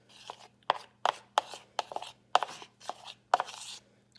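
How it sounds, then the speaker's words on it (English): Homemade bouncy ball solution is stirred in quick, evenly spaced strokes, each a sharp close knock or scrape, about three per second with nothing else underneath. "We're going to go ahead and start stirring it."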